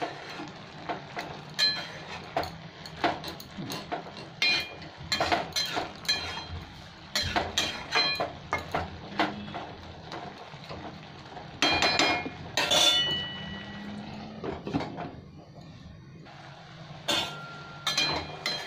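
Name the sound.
stirring Bengali masoor dal with bitter gourd in a pot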